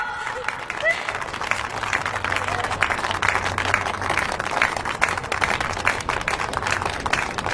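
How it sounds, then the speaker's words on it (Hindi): An audience claps steadily throughout at an evening celebration, a dense moderately loud patter of hands with a low hum beneath and faint voices mixed in. "मेरी तरह खुश रहना सीखो दोस्तों, ताली बजाओ।"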